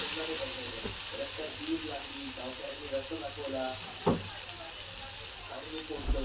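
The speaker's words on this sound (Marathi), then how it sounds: "मी टमाटे टाकून घेते। टमाटे पण चांगले तळून घेणार आहेत।" Chopped tomatoes hiss and crackle as they fry with browned onion in hot oil for a hulga dry curry, a steady close sizzle with a few sharper pops and scrapes, a voice faintly audible underneath.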